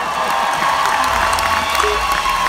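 Audience applause and crowd noise at a final stage event, a dense steady wash of clapping with some cheering, loud and continuous for a couple of seconds.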